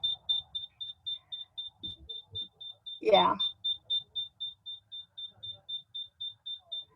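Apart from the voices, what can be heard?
home alarm going off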